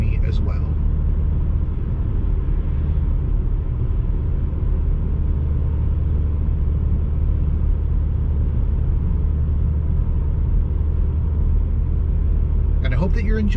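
Steady low engine rumble and road noise inside a car cruising along the Kancamagus Highway in New Hampshire, constant and even throughout, with faint voices at the very start and end.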